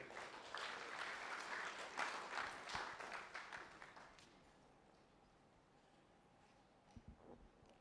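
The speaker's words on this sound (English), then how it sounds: "Shall we clap for Mary?" An orientation-session audience claps for Mary at a fresh students' event, a brief burst of clapping lasting about four seconds that fades into quiet room tone, with a few soft knocks near the end.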